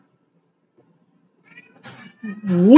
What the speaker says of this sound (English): You hear that? That's my cat.